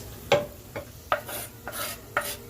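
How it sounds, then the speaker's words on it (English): Chilies fry in onion oil in a non-stick pan. Several distinct scraping stir strokes fall at uneven intervals, each followed by a short hiss of sizzling at close range. "So he's gonna let it cook with the oil of the onions."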